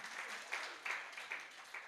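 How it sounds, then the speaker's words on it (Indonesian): A church congregation claps in a soft, distant wash of applause with small irregular swells, no voices on top. "ini luar biasa, sudah kasih tepuk tangan dulu."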